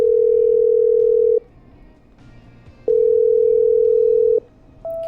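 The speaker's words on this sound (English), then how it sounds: "Come on, pick up Ricky." A telephone call rings out unanswered in the Killer Frequency video game. A steady single-pitch ringback tone sounds in long bursts separated by short silences, clear and close.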